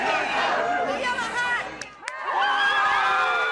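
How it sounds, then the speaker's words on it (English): Crowd of supporters cheering and chattering outside a hotel in Oslo, a dense continuous hubbub with shouts and whoops rising and falling, briefly dipping before swelling again. "Machado waved to cheering supporters from the balcony of a hotel in Oslo"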